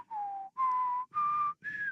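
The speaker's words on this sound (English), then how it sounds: "I mean, I can whistle pretty okay." A person whistles four clear sustained notes that step upward in pitch, each held for about half a second with short gaps between. The notes are close and fairly loud, with no talking.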